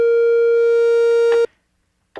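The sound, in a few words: synthesizer with two oscillators mixed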